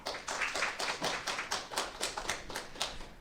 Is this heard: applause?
yes